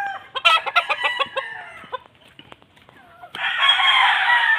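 Farmyard chickens on a mountain farm cluck in a rapid series, then a rooster crows loudly and close by, with no talking over them.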